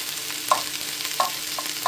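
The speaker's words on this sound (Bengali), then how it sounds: "এখন আমি এই অনিয়নগুলোকে সামান্য একটু আর একটু ফ্রাই করব" Onions sizzle in a pan for a chicken shawarma rice dish, a steady fizzing hiss broken by a few light stirring scrapes, close and moderately loud with no talking.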